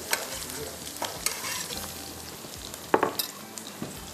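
Onions browning in a pan for mutton masala, a soft steady sizzle with scattered sharp clinks and scrapes of a spoon stirring against the pan.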